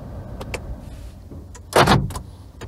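Door locks on a Perodua Axia car, fitted with an aftermarket passive keyless entry system, actuate with a few sharp mechanical clicks and a louder thunking clunk close by, amid low background rumble.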